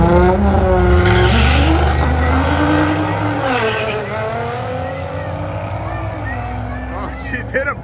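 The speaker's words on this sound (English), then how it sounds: "Oh, she did a burnout." Whipple-supercharged Shelby or Alpha7 GT-R launching hard at a drag strip, engine roaring loudly with a sustained tire squeal as revs climb and fall, while a person talks over it.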